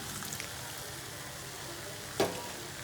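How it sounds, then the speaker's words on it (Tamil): Milk added to grated beetroot halwa cooking in a hot pan gives a quiet, steady sizzling hiss, with one brief louder clink or splash near the end. "இன்னும் கொஞ்சம் பால் சேர்த்துக்கிறேன்."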